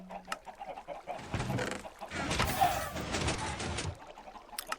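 Chickens clucking inside a Minecraft automatic cooked-chicken farm machine on an airship, a steady stream of game-style clucks and short squawks with scattered clicks, fairly close and continuous throughout.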